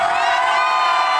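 A crowd at a Filipino contest event shouting back in unison, a loud sustained roar of many voices that holds steady for its whole length.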